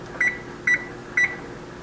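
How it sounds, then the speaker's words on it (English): Kitchen oven timer being set: three short, evenly spaced electronic beeps about half a second apart, clear and close over a faint steady hum, with no talking. "So we're going to bake this capsule here for 10 minutes. And we'll set the timer."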